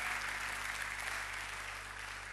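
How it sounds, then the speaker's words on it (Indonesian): A church congregation applauds God during a sermon, a dense, steady wash of many hands clapping at once, sustained and even throughout with no voices rising above it. "Tepuk tangan bagi Allah kita"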